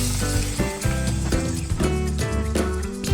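Yogurt goes into a hot pan of fried spice paste over low gas flame, setting off a steady, loud sizzle and crackle that runs throughout, partly masked by music playing over it.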